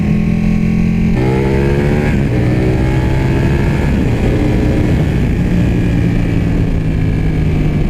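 A 2016 Ducati 1299 Panigale superbike is ridden hard, its engine roaring loud and steady as it climbs through the revs, with quick-shifter gear changes marked by brief drops and fresh rising pitch sweeps, under constant wind rush.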